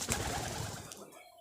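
A Kagzi pigeon at a nest with two newly hatched chicks gives a brief, soft coo against a noisy background, ending quickly.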